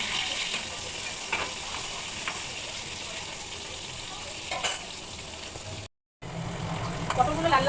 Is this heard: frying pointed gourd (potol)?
yes